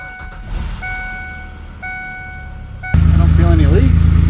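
Car engine with a leaky exhaust temporarily fixed with a wrap and clamps instead of welding, bursting into a loud, steady idling rumble near the end after a quieter stretch of background sound.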